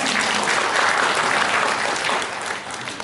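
A dense wash of applause from a sizable crowd, steady and loud, tapering slightly toward the end.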